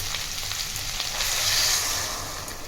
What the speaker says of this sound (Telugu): ఇప్పుడు దీంట్లోకి చింతపండు రసం వేసుకుంటున్నాం